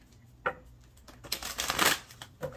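Tarot cards are shuffled close by, an initial slap followed by a dense riffling flurry of papery flicks that fades out with a final tap, without any voices.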